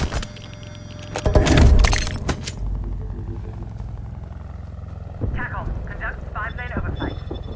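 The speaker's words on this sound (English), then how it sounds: "Enemy air patrol inbound." Enemy air patrol aircraft in Call of Duty: Black Ops Cold War, a loud broadband engine roar swelling early then fading, with a game announcer voice and further bursts of effects later.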